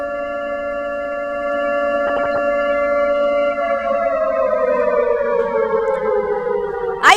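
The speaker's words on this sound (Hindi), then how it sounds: "आज खास तौर से PWD हेडक्वार्टर्स के आसपास ड्रिल के दौरान ये सायरन सुनाई दिए।" A civil defense air raid siren wails during a drill near PWD headquarters in India, holding a steady tone and then slowly gliding downward, loud and continuous without speech.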